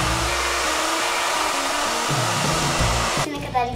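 A hair dryer blows steadily on freshly cut hair with bangs at home, a loud close whooshing drone that shifts slightly in pitch as it moves, then cuts off abruptly near the end.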